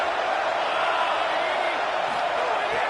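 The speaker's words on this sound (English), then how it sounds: "this crowd trying to help keep them there" A stadium crowd in a college football video game roars in a dense, steady wash of cheering, loud and continuous throughout.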